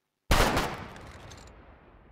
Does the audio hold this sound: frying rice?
no